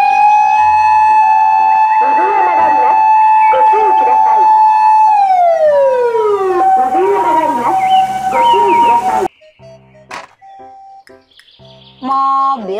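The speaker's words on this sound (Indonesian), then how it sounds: "Mobil ambulans." An electronic siren plays steady two-tone wails, then a falling sweep and yelping chirps, loud and close, before cutting off into short beeps.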